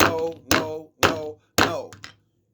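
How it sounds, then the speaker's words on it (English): A wooden gavel is banged four times in quick succession, each a loud, sharp knock with a short ringing decay, and then silence follows. "I gotta bang the gavel."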